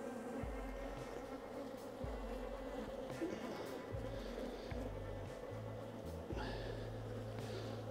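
Honeybees buzzing at an opened, well-populated beehive, a dense close-up hum with wings whirring steadily and individual bees droning past the microphone.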